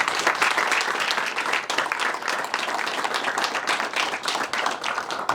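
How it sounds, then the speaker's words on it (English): An audience at a police PAL program event gives Officer Friesen and her family a round of applause, loud and close, with dense overlapping claps and a few sharper individual hand strikes standing out, sustained throughout. "Let's give them a round of applause."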